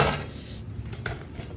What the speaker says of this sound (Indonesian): saya tuang dulu nasi ke dalam panci besar.